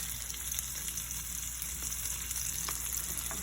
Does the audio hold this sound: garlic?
yes